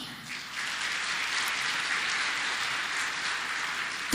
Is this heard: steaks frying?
no